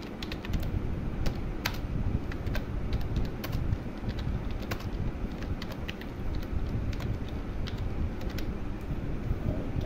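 Fingers tap a computer keyboard in scattered, quick clicks, fairly faint beneath a steady broadband background hiss.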